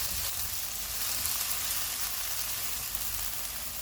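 Onion and capsicum sauté in hot oil over a medium flame, giving a steady, dense sizzle that holds close and even throughout with no talking.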